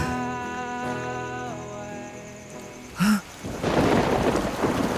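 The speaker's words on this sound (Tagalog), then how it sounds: "Umuulan." Steady rain with rumbling thunder swelling in during the last two seconds, preceded by sustained tonal sounds and a short sharp cue.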